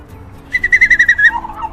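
A bird calls nearby in a quick rhythmic series of about ten bright whistled notes, followed by a softer trailing note.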